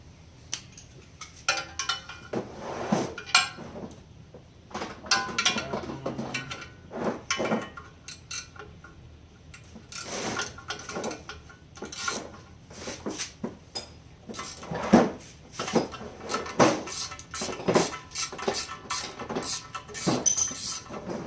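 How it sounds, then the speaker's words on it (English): Metallic clinks, taps and ratcheting clatter from wrench work during a teardown of a Ford Mustang 302 engine, arriving in irregular bursts throughout at close range. "Okay, that one's gonna have a wrench taken to it."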